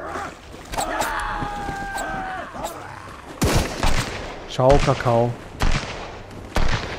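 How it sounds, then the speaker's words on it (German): Gunfire in the survival video game Sunkenland: several sharp, loud shots and short bursts crack out in the second half, with someone speaking briefly between them. "Oh, da unten ist auch einer mit, der ein bisschen rumschießt."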